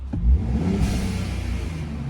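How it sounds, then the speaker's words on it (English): A RAM SST Hurricane truck engine fitted with a UGT blow-off valve revs in one short burst and then settles into a steady nearby rumble, with no talk. "let's see if we can hear this blow-off valve."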